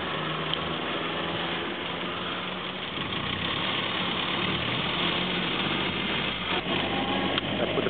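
A 1934 Morris 10 Convertible running steadily with a low, even engine drone, close and continuous throughout with no talking.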